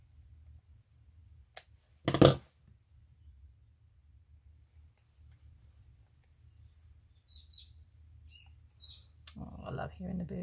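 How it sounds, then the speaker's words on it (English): Birds chirp outdoors, heard faintly through a window as a few brief, high calls scattered over a quiet room. Soft handling sounds and one sharper rustle come from close by. "Hearing the birds outside."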